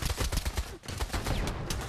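AK-47 rifle bursts in Pavlov VR: rapid automatic fire crackles in quick repeated volleys, fairly faint and distant, with a brief gap midway before the shooting resumes.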